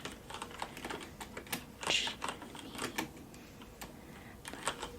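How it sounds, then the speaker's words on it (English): Quick, quiet typing on a computer keyboard in a library setting, soft irregular key clicks close by, with a brief denser burst near the middle and no talking. "Go ahead and type it in quickly."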